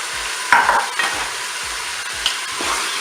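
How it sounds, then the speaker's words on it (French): Mushrooms sizzling in the pan of a Cookeo multicooker beside pork chops, a steady frying hiss with a few soft stirring scrapes and light clinks, close and alone without talk. "Je vais pouvoir maintenant mettre les champignons."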